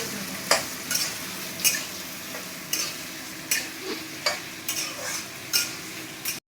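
A large amount of onion fries in a pan, under a steady sizzle broken by about a dozen regular, sharp scrapes and taps of a spatula stirring against the metal, close and clear with no talk.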